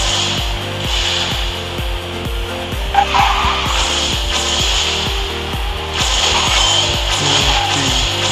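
A heavy free car skids and drifts with tire squeal in the QQ Speed Mobile racing game, its engine drone stepping through gears steadily under a continuous screech for the whole stretch, with a brief bump partway through.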